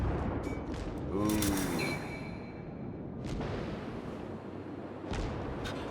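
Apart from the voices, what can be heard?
ship guns firing in World of Warships video game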